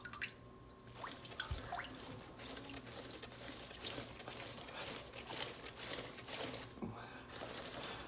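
Freshly washed green onions drip and drain in a colander, scattered faint patters of water drops with occasional light shaking, close and quiet.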